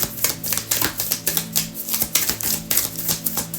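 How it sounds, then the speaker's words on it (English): Tarot cards being shuffled by hand, a quick series of crisp riffling slaps and flicks in an uneven rhythm, close and fairly loud with no talking. "This is the last shuffle."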